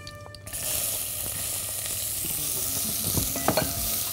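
Chopped onion dropped into hot ghee in a pot for bulgur soup, bursting into a loud, close sizzle that holds steady, with a few stirring scrapes near the end.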